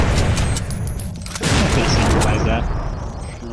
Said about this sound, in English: Threw two nades.